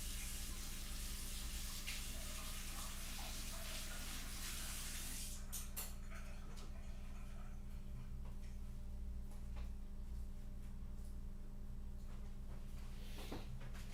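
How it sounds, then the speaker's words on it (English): A paint brush is rinsed under a running tap, giving a steady hiss of water that fades after several seconds into a quieter room, with a brief splash near the end and no talking. "I wash the brush."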